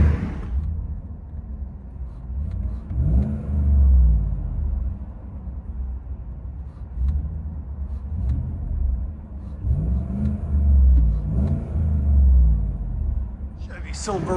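A 2017 Chevy Silverado LT with a 5.3L V8, Borla Pro XS exhaust, stock resonator and 5-inch tip, revving from inside the cab: deep muffled rumble swelling in two long throttle blips over steady idle, with faint talk at the start.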